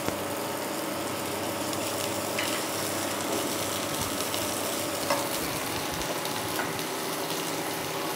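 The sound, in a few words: frying chopped onion in a pan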